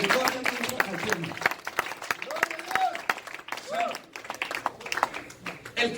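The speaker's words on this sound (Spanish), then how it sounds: "dale un aplauso a Cristo, por favor, conmigo" A church congregation claps for Christ, scattered and uneven clapping mixed with voices and murmuring, moderately loud and irregular rather than a full ovation.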